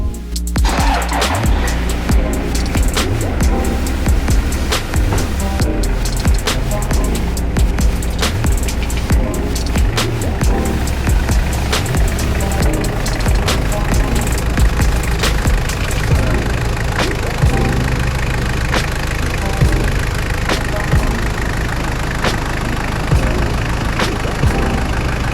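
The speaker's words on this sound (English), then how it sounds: "And now we're ready to start it." A Toyota Hilux Surf engine, fresh from a fuel filter change, turns over and settles into a steady, close, loud idle with a low rumbling throb and light mechanical ticking throughout, no voices.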